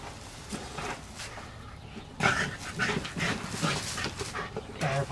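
A dog panting quickly and heavily up close during rat hunting on a pheasant farm, with rhythmic breaths and bursts of movement, no talk.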